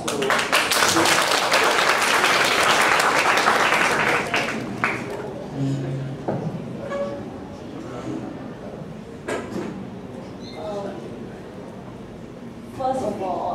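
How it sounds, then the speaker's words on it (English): An audience at a school English-day speech contest bursts into loud clapping that fills the first few seconds, then thins out and fades into scattered claps and quiet room noise. "Please give a round of applause to Shu"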